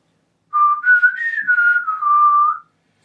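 A single person whistles a clear, wavering melodic line, gliding up and then back down in pitch for about two seconds, loud and close, with no other sound around it.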